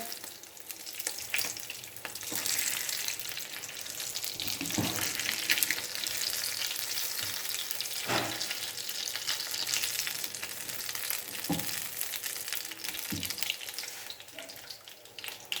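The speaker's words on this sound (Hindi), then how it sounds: "अब बाकी की मछली हम फ्राई करते हैं।" Fish pieces frying in hot oil for a masala fish curry, a loud continuous hiss and crackle lasting throughout, broken by a few soft knocks and scrapes, with no one talking.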